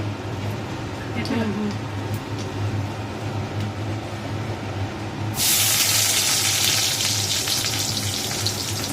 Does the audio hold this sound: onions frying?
yes